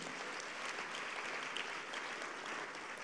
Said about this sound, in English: Clap your hands for the Lord again.